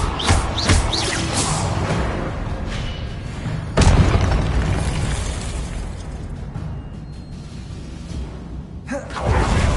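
Fiery Confringo spell explosions in Hogwarts Legacy on PS5: loud booming blasts with whooshing bursts that fade into a rumbling tail, then another hit near the end.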